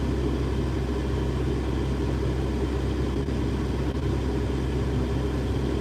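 Car engine idling with the air conditioning running, a steady low rumble and constant blower hiss, close and even throughout with no talking.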